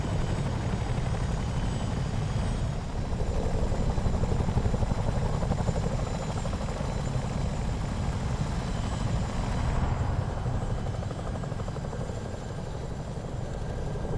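A Miltech CH-47D Chinook helicopter hovers in Microsoft Flight Simulator 2024, its rotor thump and engine whine forming a constant, loud, low rumble that carries steadily throughout.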